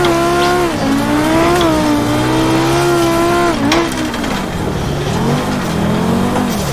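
A Group B Audi rally car in a racing video game slides sideways along a gravel hillclimb. Its engine drones loud and close, rising and dipping in pitch, with tyre scrabble and skidding mixed in.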